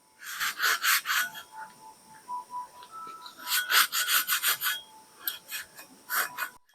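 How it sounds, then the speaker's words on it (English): An acetone-soaked rag rubbed hard over primed steel with surface rust outdoors, giving bursts of loud, rasping back-and-forth scrubbing strokes separated by brief pauses, with no talk. "So I'm just gonna douse this rag in acetone and go ahead and clean this up."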